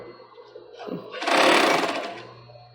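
A sewing machine stitches a cord onto a child's swimsuit. A single run of stitching builds up quickly, holds for about a second, then slows and fades, close by and with no talking.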